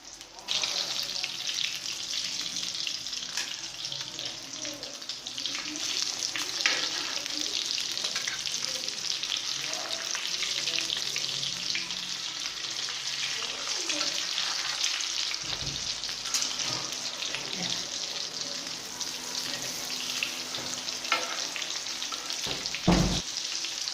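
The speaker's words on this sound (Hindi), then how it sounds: "अब हम थोड़ी देर दूसरी साइड से फ्राई करेंगे।" Potato tikki (aloo tikki) fry in hot oil, giving a steady, close sizzle that runs throughout without a break, with occasional soft clinks and scrapes from the pan.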